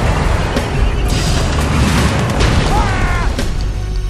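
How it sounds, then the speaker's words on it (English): Missile launch in the strategy game Yuri's Revenge, a loud, dense roaring blast that sustains throughout with rumbling booms and crashing battle noise, a brief rising tone near the end. "Missile launch confirmed."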